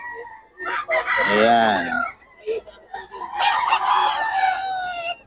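Gamefowl rooster crowing twice close by on a farm, each crow a loud drawn-out call, with a voice talking between and around the crows.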